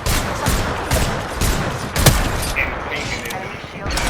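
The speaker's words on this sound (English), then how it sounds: "Shots fired." Video game gunfire, a rapid series of sharp shots popping roughly every half second, loud and close, with voices talking underneath.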